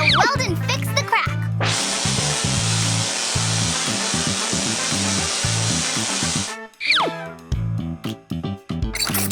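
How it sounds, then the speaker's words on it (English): Cartoon welding on a cracked ice cream truck in a car-repair scene: a steady, loud hissing spray of about five seconds set between bouncy music and playful effects. "now, I'll weld and fix the crack"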